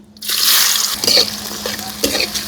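Chopped onion fries loudly in oil left over from frying a large river pangas fish, a steady close sizzle with stirring scrapes throughout.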